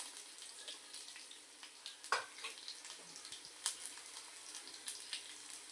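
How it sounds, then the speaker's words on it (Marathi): Cumin, mustard seeds and asafoetida crackle in hot oil for a dill greens dish, a steady faint sizzle broken by sharp scattered pops and spits. "तर आता आपण यामध्ये जिरं, मोहरी आणि हिंग टाकणार आहोत।"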